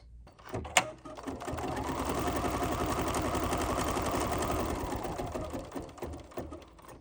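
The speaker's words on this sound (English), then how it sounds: "now I'm going to stitch the first placement line" An embroidery machine stitches a first placement line on a sampler block, a steady close mechanical whirr running for several seconds alone, starting and stopping abruptly.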